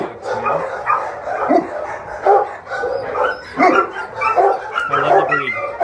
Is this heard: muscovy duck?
no